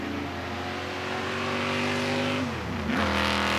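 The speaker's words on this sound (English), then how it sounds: "isn't the sound of a racing engine something that is so super special?" Racing car engines at the Goodwood Revival, a 1957 British Grand Prix celebration, roar loudly and steadily, with the pitch dropping and rising again as a car shifts and accelerates close by.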